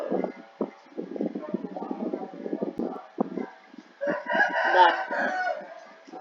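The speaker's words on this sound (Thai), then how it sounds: "ถ้าเกิดได้ยินเสียงไก่ร้องก็ต้องขออภัยนะครับ" A rooster crows at a campsite, a loud, drawn-out call rising partway through and ringing for a couple of seconds over steady, ongoing talk.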